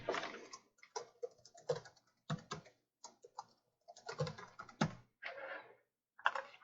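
Irregular clicking of computer keyboard keys as a password is typed while setting up an Oracle RAC database install, in uneven bursts with short pauses, fairly faint and with no talking.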